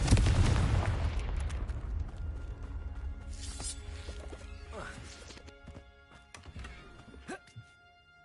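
Confringo and Bombarda spell blasts from Hogwarts Legacy: heavy booming explosions crowd the opening, then settle into scattered thuds and sharp magical cracks that fade in loudness toward the end.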